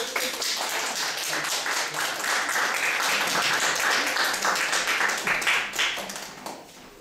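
Lecture audience applause welcoming a guest speaker, dense clapping that holds steady and then tapers off toward the end, with no talk over it.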